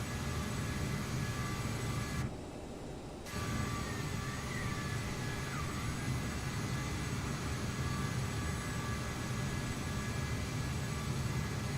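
A CRJ700 regional jet takes off from Munich in Microsoft Flight Simulator, its steady, broad engine roar droning for the whole stretch apart from one brief dip.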